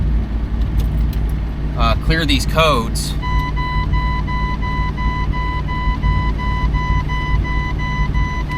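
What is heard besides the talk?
truck engine being turned on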